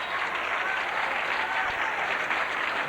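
Steady, dense applause from the crowd at a 1987 PBA Columbia 300 Open bowling title match, loud and continuous throughout with no break.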